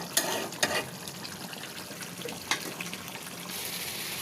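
Continuous crackling sizzle of tilapia fish frying in hot oil, with a few sharper pops and scrapes standing out near the start and middle.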